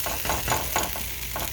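Vegan egg foo young cooks in a pan over medium heat with a steady sizzle, broken by rhythmic scraping pulses several times a second, close and fairly loud.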